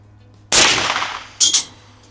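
A rifle fires at a shooting range: one loud, sharp shot with a long ringing decay, then a second shorter crack about a second later, with quiet before and after.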